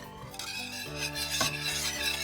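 A wire whisk beating pumpkin puree in a bowl, giving quick rhythmic scraping and light metallic clinks against the side, close up and without talk over a steady background tone.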